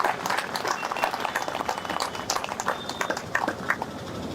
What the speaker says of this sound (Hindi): जोरदार तालियां इनके लिए बजाइए।